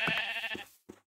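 A Minecraft sheep gives a single close bleat, wavering and nasal, then one short softer bleat follows before silence.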